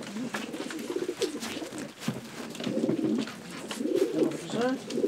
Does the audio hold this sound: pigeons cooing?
yes